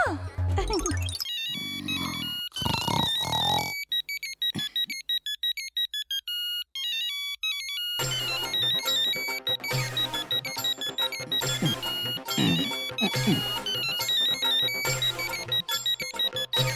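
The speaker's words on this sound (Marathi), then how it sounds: "आत्मारामचा फोन. एवढा रात्री कशाला फोन केलाय यानं?" A phone ringtone plays loudly and repeatedly, a bright electronic melody that stops briefly and then resumes ringing steadily for several more seconds.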